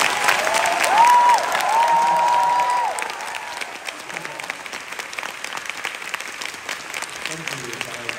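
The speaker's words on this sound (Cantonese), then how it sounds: "所以希望大家俾多啲掌聲讓佢翻" Applause from a theatre audience for a drag queen performer, dense clapping with some cheering that thins to scattered claps, with voices underneath.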